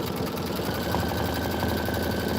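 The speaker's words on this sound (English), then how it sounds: "9 minutes of stitching" A Kimberbell embroidery machine stitches deer antlers, a steady, close mechanical whirr with a fast, even needle rhythm running without pause.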